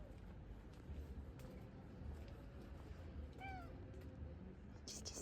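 A small cat meows once, a brief rising-falling call mid-clip, faint against a steady low outdoor rumble and murmur.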